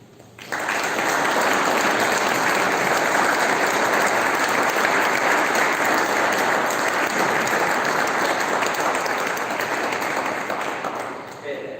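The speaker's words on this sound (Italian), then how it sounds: "Applaudiamo il coro." An audience at a choir concert breaks into sustained applause that swells quickly and holds steady as a dense, full clapping wash, fading slightly at the end.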